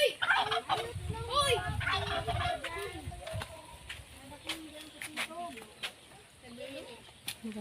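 A turkey gobbles repeatedly in bursts of warbling calls, close by, over a noisy outdoor background with some low rumbling.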